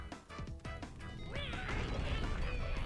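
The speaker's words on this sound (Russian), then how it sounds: "Они бомбы разбивают" Zombies smashing bombs in the mobile game Zombie Tsunami: a loud, dense run of crashing and squawking game effects that swells and holds steady, with bright cartoonish tones over a busy background.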